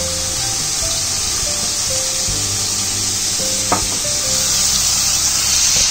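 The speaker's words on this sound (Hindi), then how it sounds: "त्यासाठी कांदा आणि कोथिंबीर मी फ्राय करून घेते चांगलं पहिलं।" Onion and coriander fry in a pan with a loud, steady sizzle and hiss, punctuated by occasional stirring clinks, close and continuous with no talk.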